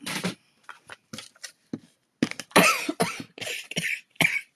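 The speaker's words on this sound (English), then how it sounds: "Talking does make me cough." A woman coughs repeatedly in short, sharp bursts with brief gaps between them, close and loud in a quiet room during a card-making session, some of the coughs sounding rough and hacking.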